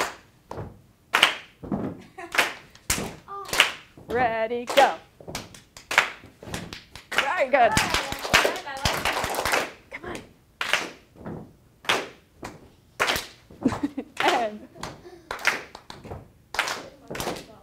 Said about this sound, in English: Clap us something.